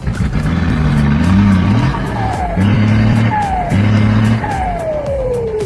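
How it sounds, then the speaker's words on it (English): Giant off-road truck roaring along a broken asphalt mountain road, engine revving loud and close in repeated surges, with tire squeals and rattling as it sways. "The giant truck roared and swayed on the road of death"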